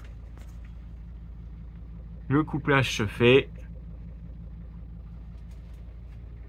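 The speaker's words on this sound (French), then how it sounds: "Donc là le moteur tourne." Mercedes-based Integral Esterel motorhome engine idling with a steady low rumble throughout, while someone speaks briefly over it near the middle.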